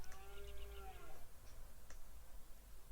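A cow in the Second Life game gives a single drawn-out moo, fairly faint, followed by a few small clicks over quiet background noise.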